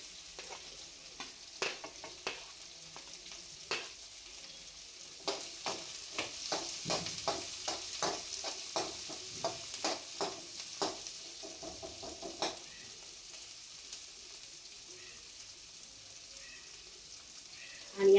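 Onions sizzling in a pan for paneer pulao while a spoon stirs them, sharp scraping clinks in bursts, thick and rapid in the middle, over a faint steady frying hiss, close by.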